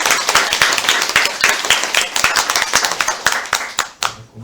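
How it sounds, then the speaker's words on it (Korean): A church congregation at a Sunday service celebrating its fifteenth anniversary claps together, loud rhythmic hand claps from many people close by, steady for about four seconds before thinning out into a few last claps. "크게 우리 박수로 하나님께 영광 돌리겠습니다."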